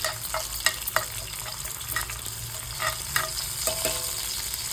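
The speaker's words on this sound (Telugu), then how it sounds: "ఇలా అయితే బాగా ఫ్రై చేసుకోవాలండి" Onion and chilli fry in a pan with a close, steady sizzle, broken by frequent light spatula taps and stirring scrapes, with no talk.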